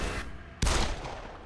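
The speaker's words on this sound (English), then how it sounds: "Oh, fuck. She shot me." A single sharp gunshot in The Evil Within on PS4 cracks out loud and close, a sudden broadband blast whose tail rings out over a low ambient rumble, with no voices.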